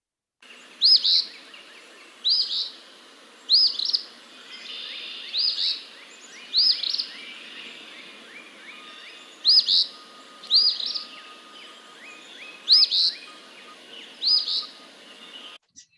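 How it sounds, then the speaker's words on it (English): An eastern phoebe repeats its raspy two-part song about every one and a half seconds, clear and fairly close, with soft chips between phrases and no other sounds. "eastern phoebe is another one of the fun birds to learn because it's one of them that says its own name."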